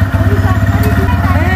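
A motorcycle engine runs steadily close by, its low rhythmic putter continuing throughout while voices talk over it.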